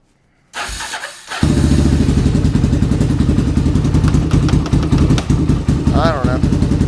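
Honda 400EX ATV single-cylinder engine, rebuilt after missing half its engine, cranks and starts right up in a garage, then settles into a loud, steady, close-up idle with rapid even firing; someone speaks over it.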